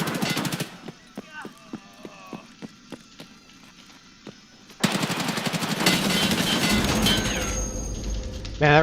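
Ash gun firing in a video game: a string of sharp single shots at a steady rhythm, then a sudden dense burst of rapid automatic fire that continues loudly to the end, with a voice talking over it.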